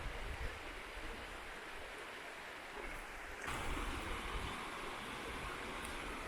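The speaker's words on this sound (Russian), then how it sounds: "Такой мини-водопадик." Small cascading waterfall at Dederkoy, a steady broadband rush of falling water heard near and moderately soft, swelling slightly midway and continuing unbroken without talking.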